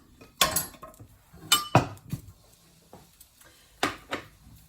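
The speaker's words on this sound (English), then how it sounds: "you can remove that from the pan, pop it on a plate" A fried egg is lifted out of a worn non-stick pan and set onto a plate, giving several sharp clinks and scrapes of utensil against pan and crockery, close and fairly loud with short pauses between.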